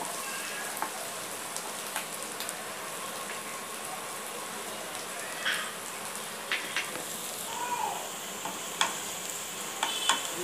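Green chillies, ginger and garlic fry gently in a pan, a soft even sizzle with sparse crackles and a few stirring scrapes, moderately quiet and without speech.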